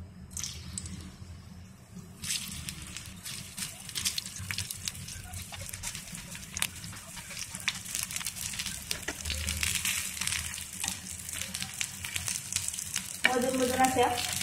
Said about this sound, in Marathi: आणि आपण सगळ्या वड्या सोडून देऊ तेलात.